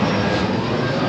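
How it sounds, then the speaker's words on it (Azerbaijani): An airplane passes overhead with a loud, steady, close engine roar that fills the whole moment, with no talking over it. "Gördünüz? Təyyarə uçur."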